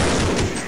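Loud, dense burst of gunfire from a weapon in the Half-Life video game, a continuous fusillade of rapid shots filling the whole moment with no pause.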